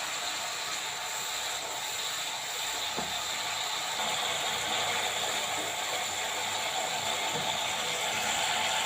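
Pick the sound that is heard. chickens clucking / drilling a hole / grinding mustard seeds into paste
grinding mustard seeds into paste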